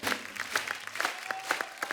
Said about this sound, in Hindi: जोरदार तालियां एक बार पंकज सर के लिए।